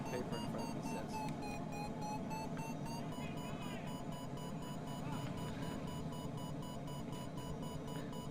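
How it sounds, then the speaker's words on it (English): Repeated electronic beeping of a glider's variometer in Microsoft Flight Simulator 2020, flying over the Colorado 14er mountains, sounding as steady tones over dense continuous game noise, with no talking. "The only music we need really right now is the sound of the Vero beeping"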